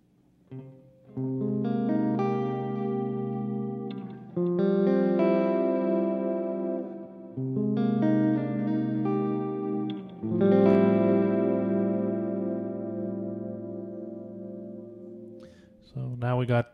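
An electric guitar played through an Eventide PitchFactor pitch effect into a VVT X-40 amp rings out in long, sustained chords with a shimmering, layered tone, four strummed phrases that each decay before stopping at the end.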